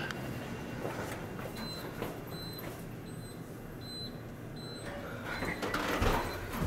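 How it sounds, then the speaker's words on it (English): 1980s Dover traction elevators running in an office building in Norfolk, Virginia: a steady low mechanical rumble with faint repeating electronic beeps, rising toward the end as the cab and doors move. "These are the elevators of the Powell Building in Norfolk, Virginia."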